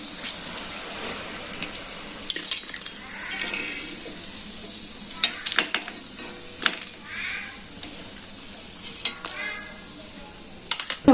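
Bajji fritters frying in cold-pressed groundnut oil, with a steady sizzle under intermittent clinks and scrapes of a utensil stirring the pan, close and fairly quiet.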